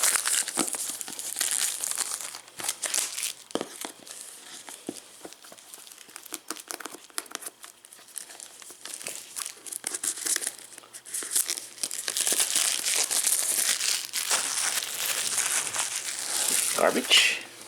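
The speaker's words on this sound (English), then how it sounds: "So I gotta get the plastic out." Plastic packaging crinkles and rustles as it is pulled from a Nest thermostat box, close and loud in irregular bursts with a few tearing sounds and brief pauses.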